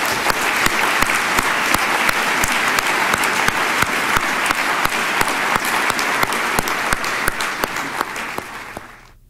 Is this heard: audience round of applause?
yes